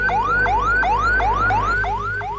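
A wailing ambulance siren sweeps up and down in a steady repeating cycle, loud and close, over a constant low engine hum with no talking.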